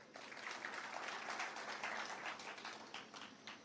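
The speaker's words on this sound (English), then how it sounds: "Please clap for them." Audience clapping at a pastoralist leadership summit address in Wajir, Kenya, a faint, distant patter of many hands that runs steadily for a few seconds.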